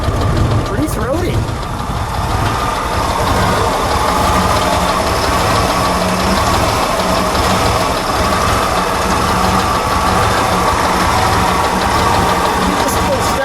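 A 1964 Chevrolet Corvair Monza Spyder engine idles close by with a steady, throaty rumble and a slight uneven pulse, continuing throughout while someone speaks over it.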